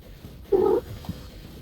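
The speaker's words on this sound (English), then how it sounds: "Sounds like there's a cat there." A house cat close to the microphone gives a single short, loud meow-like call, with a faint second sound just after against low room noise.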